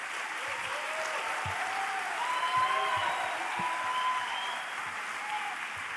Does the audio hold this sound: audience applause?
yes